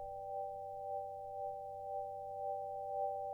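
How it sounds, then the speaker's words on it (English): A steady pure electronic sine wave tone, triggered by recorded cicadas, hums alone, pulsing gently in volume in a slow regular rhythm. "That's how the sine wave sounds by itself, being triggered just by the cicadas."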